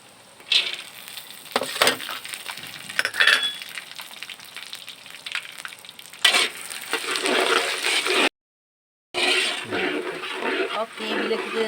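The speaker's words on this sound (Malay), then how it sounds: "Goreng kacang tanah." Peanuts fry in hot oil with a soft, continuous sizzle and occasional stirring scrapes, while a person talks over the cooking. A brief dropout to silence breaks it near the end.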